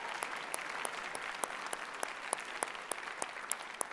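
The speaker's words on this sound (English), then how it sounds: "let's give them all a huge round of applause." An audience at a Liberal Democrat spring conference applauds steadily, with a dense patter of clapping and sharper individual claps standing out, at a moderate distance.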